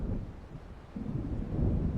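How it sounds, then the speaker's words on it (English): Approaching thunderstorm in the video game Alan Wake, a low continuous rumble with swelling, rolling bass and a faint windy hiss, with no voices. "It seems there's a storm coming."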